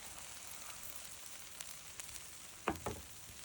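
Birria taco tortillas fry in chili oil on a hot surface, a faint steady sizzle with a few soft clicks and scrapes near the end.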